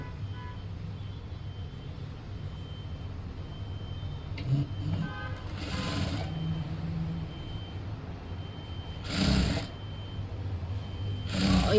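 A sewing machine stitches an unlined blouse, giving a steady low motor hum throughout with a few brief clicks and handling rustles layered on top, fairly close.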